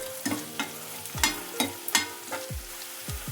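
Cashews, onions and spinach frying in ghee in a pan for spinach rice, a close sizzle with rhythmic spoon scrapes and taps against the pan about every half second, no voices.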